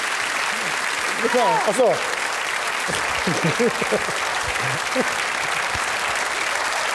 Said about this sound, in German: Das ist dein Applaus, Anke